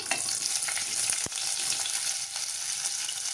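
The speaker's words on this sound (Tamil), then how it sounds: "ஆயில் சூடானதுமே பிரியாணிக்கு சேர்க்குற ஸ்பைசஸ் எல்லாமே சேர்த்துக்கலாம்" Spices and chopped onions for samba wheat rava biryani sizzle steadily in hot oil, a dense continuous frying hiss with a brief stir clank partway through.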